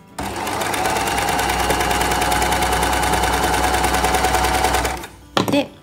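Overlock serger stitching around a fabric corner, a loud continuous rapid chatter for about five seconds that stops, followed by a brief mechanical click and rustle.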